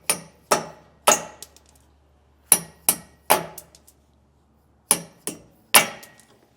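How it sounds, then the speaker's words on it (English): Hammer taps knocking studs loose on a trailer wheel during electric-over-hydraulic actuator installation on a 2018 Keystone: sharp metallic strikes, in groups of three, then four, then three, each ringing briefly, close and alone. "just tap them with a hammer"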